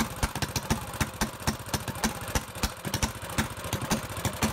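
Small engine running rich on a Tillotson carburetor with the choke held open, a fast, rough, pulsing putter with uneven firing beats, close and loud.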